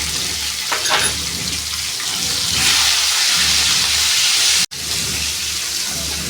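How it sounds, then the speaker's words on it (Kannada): Green chillies frying in a pan for egg palya give a continuous close hiss and sizzle that swells slightly partway through. A sudden brief dropout occurs near the end. "ಹಸಿಮೆಣಸಿನ್ಕಾಯಿ ಚೆನ್ನಾಗಿ ಫ್ರೈ ಆದಮೇಲೆ ಈರುಳ್ಳಿ"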